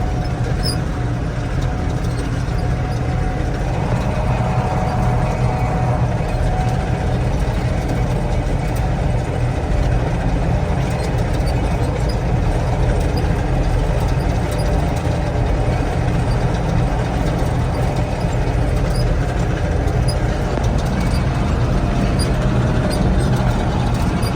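A T-150 crawler tractor with a YaMZ-236 engine runs steadily, its low diesel rumble and rattle continuous and loud throughout with no pauses or speech.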